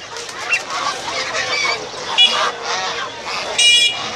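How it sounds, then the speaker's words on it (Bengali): Geese at the Tongi livestock market in Bangladesh, where many duck breeds are sold, give repeated close, loud honks and nasal calls, sometimes overlapping, over a busy market background. "রাজহাঁস"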